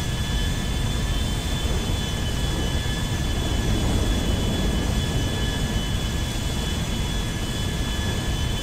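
Steady roaring jet engine of an airplane in GTA 5, a constant loud drone with tonal whine held throughout, no talking.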